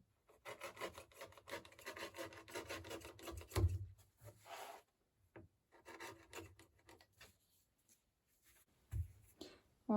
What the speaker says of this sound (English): There's the first rectangle, and I'm just going to cut it out